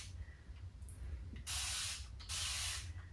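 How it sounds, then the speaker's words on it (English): A mister bottle sprays water onto paints laid out for painting, two short, close hissing bursts, each about half a second, over faint background quiet. "just applying a little spray"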